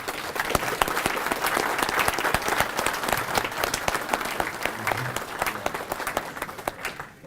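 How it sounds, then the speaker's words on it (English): An audience at a fundraiser luncheon for wounded veterans claps steadily and loudly for about seven seconds, a dense, even wash of applause that fades out abruptly at the end. "give yourselves a round of applause for how awesome this place is"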